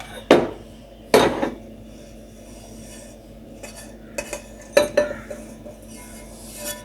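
A metal utensil strikes and scrapes a cooking pot as it is emptied during panjeeri preparation, with a few loud clanks spaced apart and softer scraping between them, close up.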